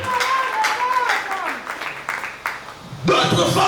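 Church congregation applauding for the Lord during a Sunday service; a burst of clapping swells near the end, following sung or spoken voices.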